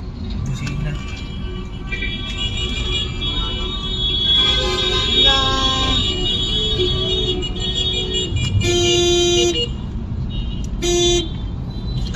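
Car horns honk in short bursts over busy street traffic involving a truck, with voices talking nearby.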